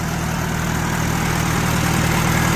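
A Farmall A tractor engine, freshly cleaned of two years of dust after long disuse, runs at a steady idle with a dense, continuous low rumble. It sounds close and loud, with no voices over it.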